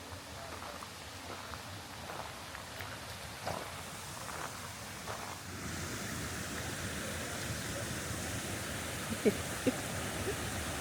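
Steady broadband rush of a waterfall in Maine, moderately loud and continuous, with a few faint knocks and brief sharper clicks near the end.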